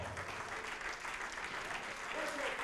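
Congregation applauding during a Brazilian televised church service, steady dense clapping throughout with no break, moderately loud and filling the room.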